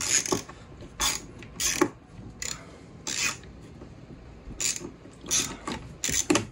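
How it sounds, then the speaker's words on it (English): A ratcheting flathead screwdriver turning a screw during work with brass window stop bead adjusters, giving repeated bursts of loud, close clicking and rasping, each lasting a fraction of a second with short pauses between. "oh, it's got ratchet action too."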